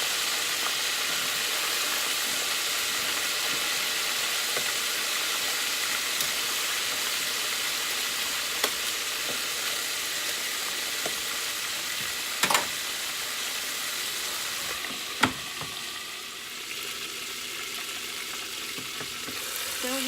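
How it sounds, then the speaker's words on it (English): Chicken wings deep frying in hot grease give a steady, dense sizzle and hiss throughout, with a few brief clicks and knocks from stirring. "It's frying pretty golden brown."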